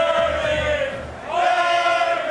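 Stadium crowd in EA Sports College Football 26 at an Army vs Navy game roaring continuously, a loud sustained swell of voices that dips briefly and surges back.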